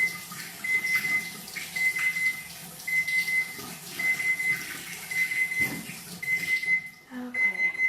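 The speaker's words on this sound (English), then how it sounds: "let me wash my hands" Hands being washed under a running kitchen tap while cooking keto fried chicken, a steady rush of water with splashing, and a repeating high electronic beep sounding throughout before the water cuts off near the end.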